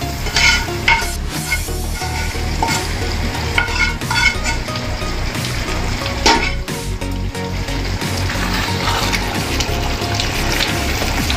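Paneer butter masala frying in a pan, a loud continuous sizzle with stirring scrapes and utensil knocks, no voices.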